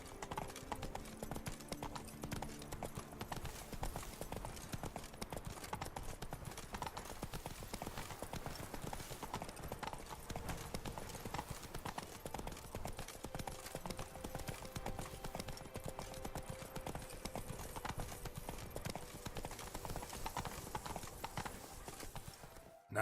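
Roach the horse galloping in The Witcher 3: Blood and Wine, a fast, steady clip-clop of hooves running throughout, fairly faint and unbroken, with no talk.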